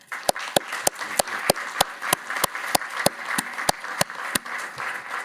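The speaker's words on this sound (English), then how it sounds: "So a big round of applause for Governor Villar." Sparse, evenly spaced claps from a small audience at an economics lecture by Governor Leonardo Villar, each clap sharp and distinct in a slow, regular rhythm against a quiet room.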